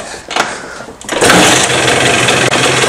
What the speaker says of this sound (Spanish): Ya veis que la moto arranca.